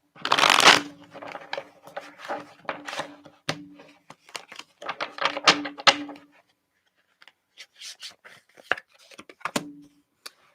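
Tarot cards being shuffled by hand before a draw: repeated papery riffles and soft slaps in bursts, close and clear, with brief gaps between the bursts and no talk.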